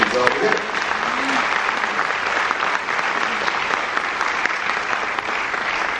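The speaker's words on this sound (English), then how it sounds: "a round of applause for Scott and everybody at Penguin Random Ho" Audience at an author event for the book "A Newfoundlander in Canada" in Meaford applauds steadily, a dense, sustained clapping that holds at full strength for the whole stretch.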